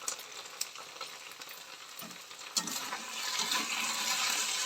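Chili paneer sizzles in a pan while a spoon stirs and scrapes through it, close by with occasional sharp clinks, the frying hiss growing louder toward the end; no talking.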